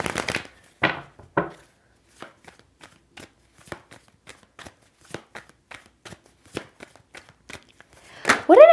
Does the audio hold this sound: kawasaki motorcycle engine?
no